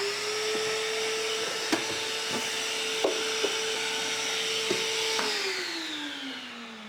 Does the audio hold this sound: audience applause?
no